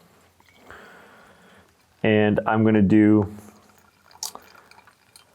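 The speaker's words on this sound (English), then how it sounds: "Now at 120, I'm gonna open up the valve" Coffee drips through an April Hybrid Brewer after its valve is opened, a faint, quiet trickle behind someone speaking briefly in the middle.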